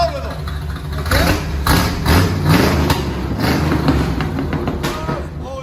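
A 1964 Chevy C10 with a 350 V8, true dual exhaust, shorty headers and Flowmaster Outlaw mufflers idles and revs close by in a loud, lumpy, throbbing rumble, with people talking over it.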